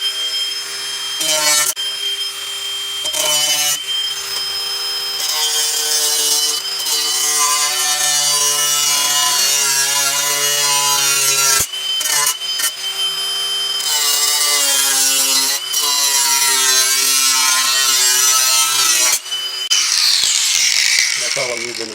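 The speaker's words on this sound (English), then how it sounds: "That's all I'm using is a cutoff wheel on the grinder." An angle grinder fitted with a cutoff wheel cuts metal for a lawn mower chute blocker, a loud sustained high whine with brief dips and restarts throughout, while someone talks over it.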